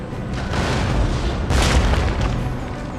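Artillery cannon fire in the battle game Total War: Empire rolls out as a heavy, continuous booming rumble, with a louder burst of blasts in the middle and no voices over it.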